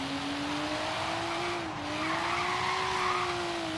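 A Nissan 240sx with an RB engine swap spins its tires in Forza Horizon 3, a steady loud screech with a sustained engine tone rising and dipping slightly, alone with no talk.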